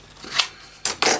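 Scissors snip through paper being trimmed for a music-themed collage, with a soft cut early on followed by two sharp, close snips near the end.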